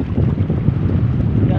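Strong northeast monsoon wind blows over a boat out at sea in rough water, a loud, steady low roar of gusts buffeting the microphone with no clear speech.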